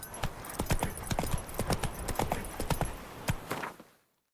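Roach, Geralt's horse in The Witcher 3: Wild Hunt, trots with steady, close clip-clopping hooves in an even rhythm, slowing near the end before silence; no voices.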